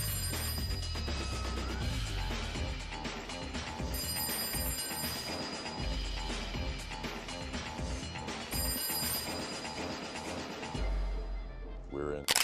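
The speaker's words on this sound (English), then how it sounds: "the ringing of the phone, which created a sense of conflict and a feeling full of tension" A telephone bell rings repeatedly in a tense film scene, its bright trilling bursts recurring over a dense, busy soundtrack that fills the whole stretch.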